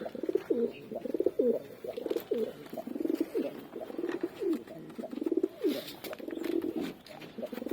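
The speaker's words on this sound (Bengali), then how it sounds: "দেখুন পাশে নটটা কিরকম ডাকছে দেখুন।" A male pigeon calls nearby in repeated rolling coos, a steady rhythmic series of throaty phrases over a quiet background.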